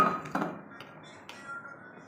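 Dishes and a bowl being put away in a home kitchen after breakfast, with a few light clinks and knocks of crockery, the first ones the loudest, then quieter scattered taps against a faint background.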